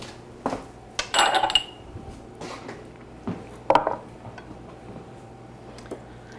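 Glass canning jars handled in a kitchen for strawberry preserves, giving clinks and rattles in short clusters as they are set down and knock together, with quieter taps in between and no talking.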